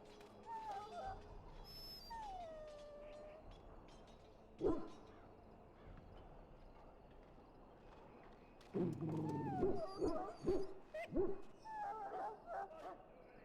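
A dog in a pen in the Dragon Age video game gives sharp barks, yips and whimpers against game ambience, a couple of louder bursts standing out near the middle and end.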